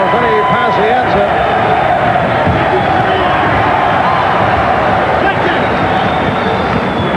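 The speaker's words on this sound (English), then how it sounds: "Now the crowd chanting for Vinny Pazienza." Boxing arena crowd at the Vinny Pazienza versus Harry Arroyo fight, a loud continuous roar of massed voices chanting for Pazienza, steady and dense throughout with a commentator talking over it.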